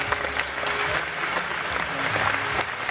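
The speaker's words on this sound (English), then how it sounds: "Everybody give a round of applause." A conference audience at Lotusphere 2011 applauds steadily during a Jeopardy! game against IBM Watson, dense clapping filling the whole stretch with a broad, even roar, fairly close and loud.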